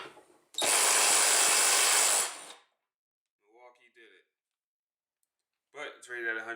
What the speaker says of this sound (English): Milwaukee M12 2454-20.